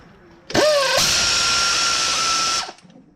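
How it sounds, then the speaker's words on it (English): A power tool whirs on a bolt on a Honda CR-V B-series engine, one loud continuous burst of about two seconds with a rising pitch at the start, close up and alone. "you can tighten the top bolt the rest of the way"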